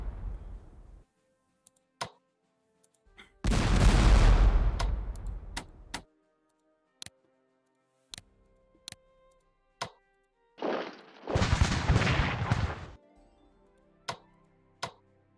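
Gunfire and artillery in the strategy game Strategic Command, set in the War of the Triple Alliance: two long, loud rumbling salvos stand out against sparse sharp clicks and short thuds, with near silence between them.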